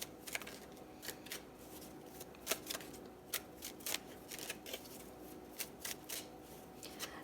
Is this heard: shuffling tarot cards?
yes